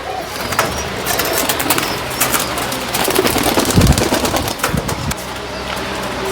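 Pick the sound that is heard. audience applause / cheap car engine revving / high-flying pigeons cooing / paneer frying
high-flying pigeons cooing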